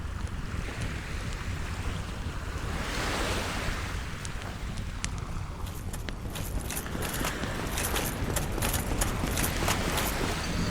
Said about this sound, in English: Just me, this bonfire, and the waves.